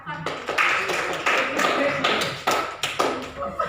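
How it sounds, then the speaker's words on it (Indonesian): A classroom of students claps for a classmate in a few short, uneven bursts of hand claps and taps at close range. "Tepuk tangan untuk Farhan."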